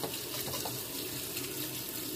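Water gushes steadily from a kitchen tap into the sink, a constant close hiss and splash without breaks.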